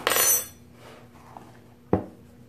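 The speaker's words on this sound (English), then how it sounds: "And I'm going to stir this up." A teaspoon clinks against a bowl of chocolate zucchini muffin batter: a bright metallic scrape at the start, faint stirring, then one sharp close tap near the end.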